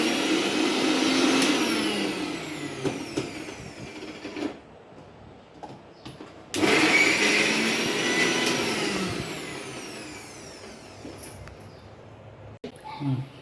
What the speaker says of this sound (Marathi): आता आपण मिक्सरमध्ये बारीक करायचं आणि असं रस छानपैकी काढायचा